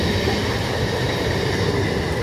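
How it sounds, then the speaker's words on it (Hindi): A down local train on the Eastern Railway runs toward Hooghly railway station, a loud, continuous rumble of wheels and carriages with a steady roar throughout and no voices. "आप local train T pandal railway station अभिमुखे जाच्छे।"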